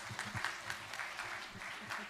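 Applause from a university audience after a session, heard faintly and at a distance, with low voices murmuring beneath the steady patter of clapping.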